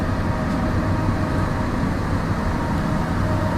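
The Mohanagar Express rumbles into Dhaka Airport railway station on a rainy night, a steady low roar of wheels and carriages heard from on board, continuous and fairly loud without any talk.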